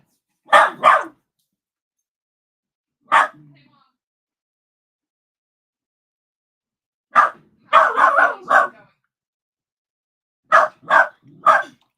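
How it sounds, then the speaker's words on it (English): A dog barks nearby in loud, sharp bursts: a pair, a single bark, a rapid cluster of several, then another pair, with stretches of silence in between. "I can't hear you over the dog."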